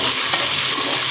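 Onion and garlic fry in a pan with a loud, dense, continuous sizzle, close by, with no voices.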